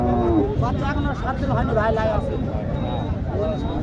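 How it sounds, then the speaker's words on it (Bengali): A young cow at a busy cattle market in Matajihat, Naogaon, lets out drawn-out moos close by, rising over constant crowd chatter and people talking nearby. "দেখেন একটি জুয়ান গরু"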